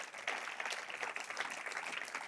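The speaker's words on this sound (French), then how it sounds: "Bonne main d'applaudissement pour les bénédictions" Church congregation clapping together in a sustained round of applause, dense and steady, fairly close, with no break in the clapping.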